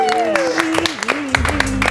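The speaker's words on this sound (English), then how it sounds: "give a round of applause to all the players coming back to the stage" An audience at a showdown event applauds the players as they return to the stage. The clapping is brief and dense, and a voice carries over it.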